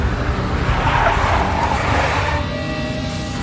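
A big black Mercedes drives in the Max Payne video game, its engine a loud steady roar with tire noise throughout, no voices over it.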